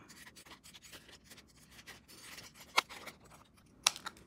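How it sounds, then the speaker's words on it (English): A pair of scissors slices through a thin plastic pattern template sheet, giving soft rasping cuts with two sharp snips standing out, close and unaccompanied by speech. "So just cutting it just with a pair of scissors, and it just cuts really easily."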